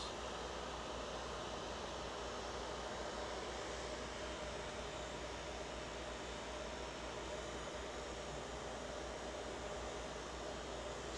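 A cotton candy machine's motor runs with a steady, even whir and airy hiss, close by and unbroken, with no talking.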